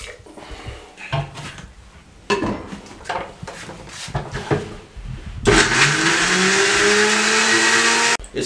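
A kitchen mixer grinder whirs loudly and continuously as it blends fresh ginger and garlic cloves into paste for a Punjabi chicken curry, following a few seconds of clattering and handling sounds.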